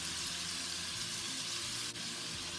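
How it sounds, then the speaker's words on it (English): Seafood with thawed crawfish sizzles in a pot seasoned with creole seasoning, a dense, steady frying hiss with soft stirring scrapes underneath, close and continuous. "give this a quick stir"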